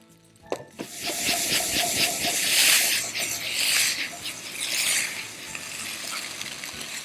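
Rice fries and toasts in a hot pan, giving a loud, continuous sizzling hiss with swelling bursts of spitting and occasional scraping stirs.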